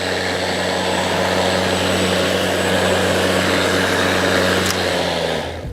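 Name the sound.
Greenworks 60V self-propelled battery lawn mower running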